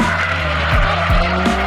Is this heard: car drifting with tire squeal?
yes